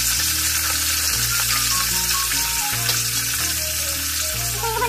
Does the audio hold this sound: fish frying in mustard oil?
yes